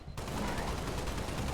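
Sustained heavy gunfire from Halo: Reach combat, a dense continuous fusillade of rapid shots starting abruptly and holding loud for the whole stretch.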